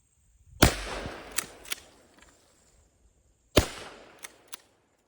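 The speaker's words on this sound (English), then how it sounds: "Remember, I'm supposed to shoot 3 times." A Mossberg 500 shotgun fires three shots outdoors: one sharp, loud blast with a trailing echo, a pause of roughly three seconds, then a second crack followed by a quicker third report.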